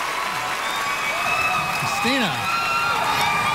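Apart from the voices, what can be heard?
live audience applauding and cheering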